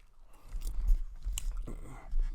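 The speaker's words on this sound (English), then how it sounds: "I'm chewing gum into the microphone" Gum being chewed right up against a microphone, with wet, close smacking and crunching bites in an irregular rhythm throughout, no talking.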